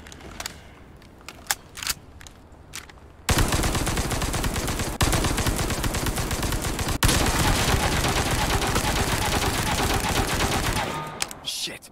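An automatic weapon fires in the Resident Evil 4 Remake, a loud, unbroken rapid-fire burst lasting about eight seconds after a few scattered single shots, then cutting off abruptly.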